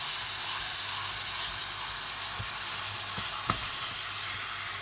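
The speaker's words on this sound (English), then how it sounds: "we're just going to mix up the ground beef. I have the onion mixed in it." Ground beef mixed with onion sizzles and fries in a pan, a steady close hiss with a few soft scraping stirs and taps over it, no voices.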